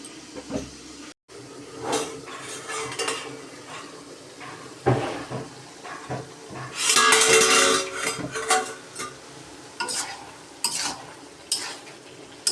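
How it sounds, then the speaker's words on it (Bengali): Bottle gourd curry stirred in a cooking pot, with repeated scraping and clanking of a spoon against metal over a low sizzle, one louder burst of rattling midway, no talk. "তো দেখুন রান্না এখন নেড়ে দিই ভালোভাবে।"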